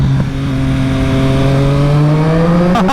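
A 2020 Triumph Street Triple RS with a LeoVince LV One EVO slip-on exhaust revs up loud and close, its engine note climbing smoothly and steadily in pitch for nearly three seconds, with no talking.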